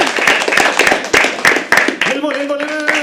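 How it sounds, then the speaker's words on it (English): An audience at a live open mic poetry event claps for a poet, giving steady, moderately loud applause with distinct sharp claps, while a voice talks over the clapping as it fades near the end. "Keep clapping, keep clapping, keep clapping."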